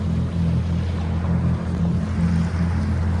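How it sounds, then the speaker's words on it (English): A skiff's motorboat engine drones steadily at low pitch as the hull cruises over water, with a constant hiss of spray and wind. "Knock on wood, good running boat, cruising along."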